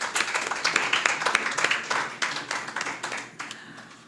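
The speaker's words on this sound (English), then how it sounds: "Let us give our authors a round of applause." An audience at an annual authors' forum applauds its authors with a moderate round of clapping, individual claps distinct and rhythmic, rising and easing in waves over a few seconds.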